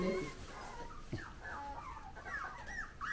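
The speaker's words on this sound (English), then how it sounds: "my favorite thing on this farm were the Havapoo puppies" Havapoo puppies on a Lancaster, Pennsylvania farm whimper and yip in short, high-pitched cries close by, over a background of murmuring voices.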